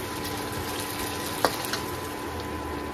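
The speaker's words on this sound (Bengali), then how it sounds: "জল দিয়ে দিয়েছি" Water poured into a cooking pan of tomato-based vegetarian curry, a steady close rush of liquid with a light sizzle and one brief clank partway through.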